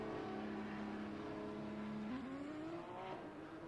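A Porsche GT race car engine in the Assetto Corsa Competizione racing game holds a steady droning note, then climbs in pitch as it revs up, heard faintly and alone, with no talk.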